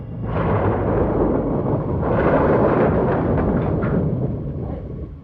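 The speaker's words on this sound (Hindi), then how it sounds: "आप इस तूफान में फंस गए साहब?" A thunderstorm in a horror drama: a long, loud rolling rumble of thunder builds and swells for several seconds, then slowly fades, heard alone without speech.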